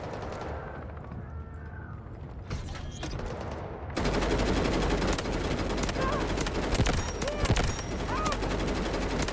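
Machine gun turret firing in the video game Delta Force, with dense, rapid continuous bursts of loud gunfire filling the scene after a quieter opening with faint gunfire and a voice.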